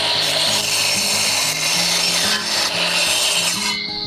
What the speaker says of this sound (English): I'm using a combination of my chop saw and a reciprocating saw to make this cut